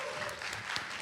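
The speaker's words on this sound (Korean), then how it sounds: "여러분 뜨거운 박수로 맞이해 주시면 감사하겠습니다" Steady applause from a conference session audience fills the whole moment, even and moderately quiet, with no voices standing out.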